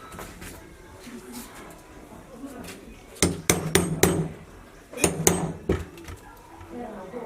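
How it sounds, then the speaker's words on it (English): Hammer blows strike a wooden hand stitching pony during leatherwork, coming as two quick bursts of sharp, close knocks over quiet room noise. "I'm just going to pick an hammer to mount pressure on this."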